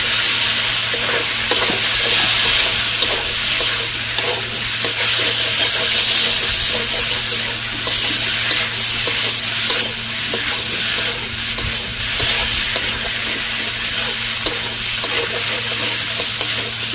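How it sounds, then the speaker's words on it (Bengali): Potatoes fry with spice masala in a pan while being stirred, a loud, continuous sizzle broken by repeated scraping and turning sounds of the spoon against the pan. "মশলা দিয়ে আলু কষানো হয়ে গেছে"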